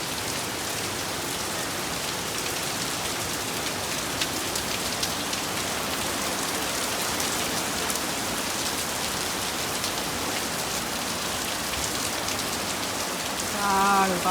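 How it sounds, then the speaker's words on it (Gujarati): Heavy monsoon rain pours down steadily, a dense even hiss of drops drumming on surfaces that stays constant for the whole stretch, with a brief faint bird call near the end. "જો ભાઈ ખાલી વરસાદ જોવો."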